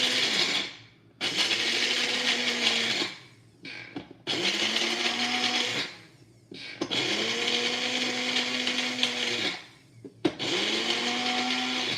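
A blender grinds dried ingredients into powder, running in four loud whirring bursts of a few seconds each separated by brief pauses, with the motor pitch settling as it spins.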